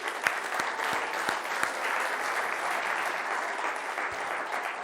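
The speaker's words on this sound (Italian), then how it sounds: "accogliamo con un applauso la Ilenia Bigi" Studio audience applauding on an Italian sports talk show, a steady dense wash of clapping at moderate level, close and continuous for the whole stretch with no voices over it.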